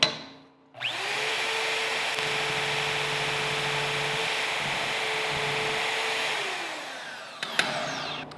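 Portable band saw mounted on a stand cutting a piece of metal, the motor spinning up to a steady whining hum with a grinding cut underneath, held for several seconds before winding down, followed by a couple of clanks.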